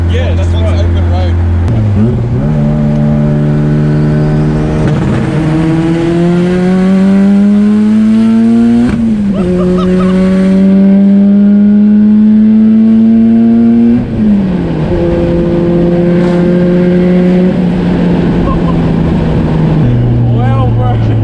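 A turbocharged Nissan S14 with an SR22 engine accelerates hard on an open road, its engine note climbing through several gears with clear pitch drops at each shift, loud and close throughout.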